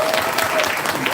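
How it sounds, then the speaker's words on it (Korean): At a VIP vision concert, a crowd gives steering committee members a burst of loud, dense applause that carries on continuously through the short moment. "우리 운영위원님들 위해서 박수 한번 쳐드리고 싶습니다."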